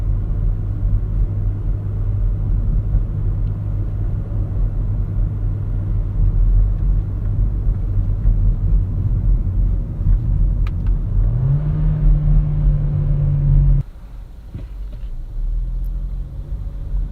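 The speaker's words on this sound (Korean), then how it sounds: "여기도 살짝 내리막이니까 엔진 브레이크 걸면서" A car engine drones steadily with a low rumble and road noise while engine braking on a slight downhill slope in manual mode, pitch rising slightly near the end before the tone drops off; no talking.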